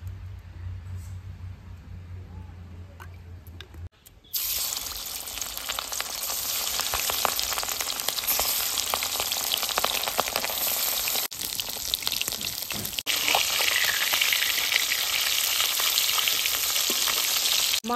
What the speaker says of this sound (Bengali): লবণ হলুদ মাখিয়ে মাছ হালকা করে ভেজে নেব।